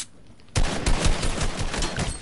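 Gunfire in Fortnite bursts in suddenly after a near-silent moment, a loud rapid string of close shots rattling on without a break.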